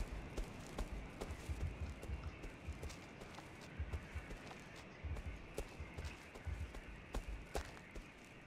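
Faint footsteps echo from afar in the horror game Cry of Fear, a steady run of soft, rhythmic thuds at an even pace beneath a low ambient hum, without talk.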